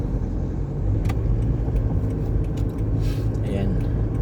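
Road traffic crosses a bridge toward Mandaue City from Lapu-Lapu City, a close, continuous rumble of passing cars heard from inside a vehicle, with a voice talking over it.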